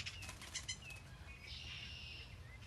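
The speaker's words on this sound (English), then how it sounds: "We got a bird war going on in our backyard." Several backyard birds squabble, with flurries of flapping wings and a few sharp chirps, near and fairly loud against faint outdoor background noise.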